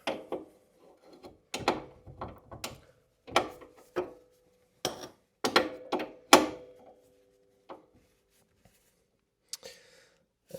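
Breaker bar and wrench working on a Toyota Supra, giving a series of sharp ratcheting clicks and metallic clanks in irregular bursts, close and quiet against near silence.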